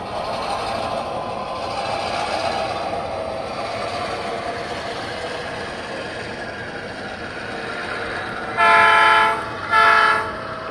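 A model train hauls boxcars around a switching layout at Royal Plywood with a steady running rumble, then two short, loud horn blasts near the end.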